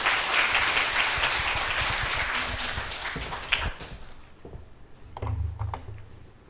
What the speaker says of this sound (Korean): 우리 격려하는 마음으로 박수하겠습니다.